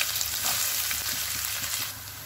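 Onions with cumin and mustard seeds frying in hot oil: a steady, dense sizzle with faint crackles runs close and alone, easing slightly near the end.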